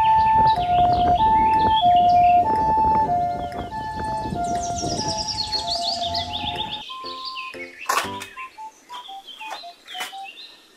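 A toy ambulance plays a loud electronic siren jingle of repeating two-tone beeps alongside chirpy synthesized tunes, steady at first, then thinning into scattered beeps and clicks.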